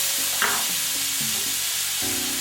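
Chicken stir fry sizzles in a hot pan while being stirred, with a steady frying hiss broken by several scraping stir strokes, close and moderately loud with no talk.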